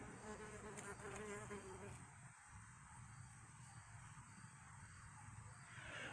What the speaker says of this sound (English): We got some bee action.